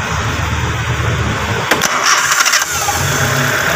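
A car engine cranked by its starter motor through a newly installed relay: a loud steady whir that catches into a running engine partway through, then settles near and alone.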